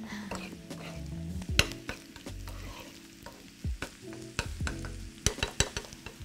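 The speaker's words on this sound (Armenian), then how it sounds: "Շատ գեղեցիկ տապակվում է" Onions sizzle steadily in a hot pan, broken by repeated sharp scrapes and clinks of stirring.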